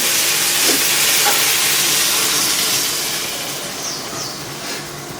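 Water poured into a hot pan of tilapia and eggplant curry, giving a loud, steady steam hiss that fades slowly over several seconds, with no talk.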